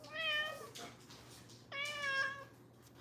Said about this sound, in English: Yes, meow cat.